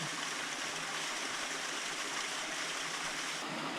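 Rose River Falls cascading into a pool in a Shenandoah canyon, heard as a steady, dense rush of falling water, continuous and fairly close with no talk over it.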